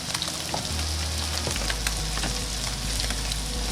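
Fish sautéing in a hot pan gives a steady, close frying sizzle with a low hum beneath, as it is flipped partway through.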